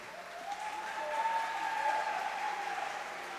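An audience in the gallery of a city council plenary session applauds, a dense, even patter of many hands held at moderate loudness, with a faint tone underneath.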